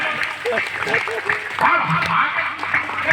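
Thin, weak clapping from the audience at a Hindi humorous poetry gathering (kavi sammelan) runs steadily underneath a voice that keeps speaking over it.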